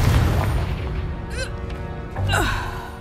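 A Confringo fire spell bursting in the video game Hogwarts Legacy, two whooshing blasts about a second apart over rumbling game ambience, with a short gasp-like effect.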